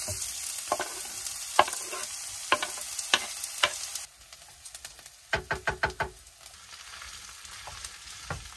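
Buckwheat and minced meat frying in a pan over an outdoor fire beside a log cabin in the forest, with a soft continuous sizzle broken by sharp clacks as a utensil stirs and knocks against the pan.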